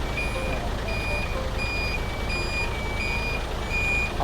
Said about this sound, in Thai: ตอนนี้มีรถอีกคันถอยเข้ามาครับเลยมีเสียงปิ๊บปั๊บปิ๊บปั๊บปิ๊บปั๊บดังไปหมด